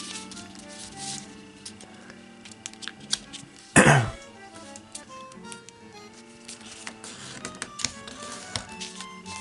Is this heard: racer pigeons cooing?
no